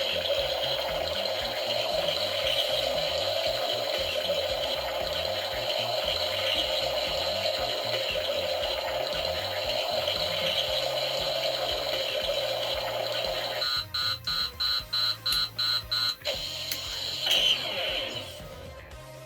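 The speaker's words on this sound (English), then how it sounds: "I'll just use the slime blower for example." Slime blower effect from a 2020 Ghostbusters: Afterlife Plasma Series Neutrona Wand toy, a steady electronic hum and gushing synthetic whoosh that ends in a burst of rapid rhythmic beeps and clicks near the end.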